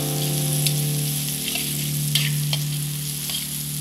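Onion frying with salt in a pan for a Goan cuisine dish, a steady loud sizzle over a low continuous hum, with a few brief clicks of stirring, no voices.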